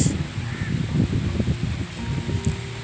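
Strong morning wind blows outdoors in a steady, rumbling gust with a rustle like leaves stirring. It continues unbroken throughout, with a faint bird call in the distance.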